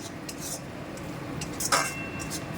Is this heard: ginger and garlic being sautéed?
yes